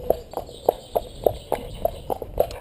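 A quiet cob horse walks at an easy pace, its hooves clip-clopping in a steady, even rhythm of about eight close, distinct hoofbeats, with no talking.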